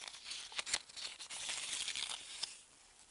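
Crinkly plastic wrapper of a Chupa Chups chocolate ball being torn and opened, faint and close, with short bursts of tearing and crumpling.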